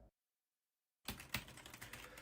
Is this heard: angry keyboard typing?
yes